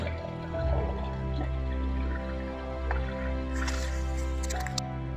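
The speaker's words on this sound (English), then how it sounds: "Next, switch on the water pump." Water pump on a lube oil film evaporation distillation kit running to feed the condensers, a steady low hum with trickling, dripping water and a few small clicks and splashes near the end.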